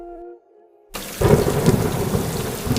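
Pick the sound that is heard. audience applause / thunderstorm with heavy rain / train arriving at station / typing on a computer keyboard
thunderstorm with heavy rain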